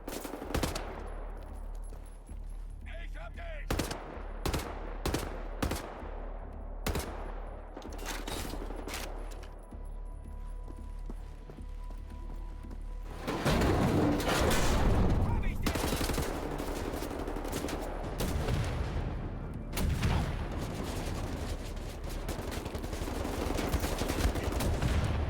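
Gunfire in the shooter game Wolfenstein: The New Order, with sharp scattered single shots early, then a long, loud stretch of sustained rapid fire and explosions from about the midpoint on.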